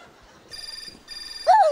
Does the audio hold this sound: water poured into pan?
no